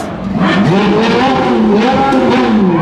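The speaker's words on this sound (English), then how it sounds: "Another 812 super fast, blipping away as it makes its way past us." A Ferrari 812 Superfast passes at a car show, its V12 engine blipping and revving loudly in quick rising surges, close and continuous.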